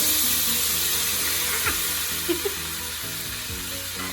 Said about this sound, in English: That lemon juice is really sizzling.